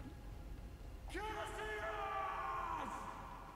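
A character in the Dust: An Elysian Tail video game lets out one long, loud, sustained yell that bends down in pitch at its end, rising over steady background game sound.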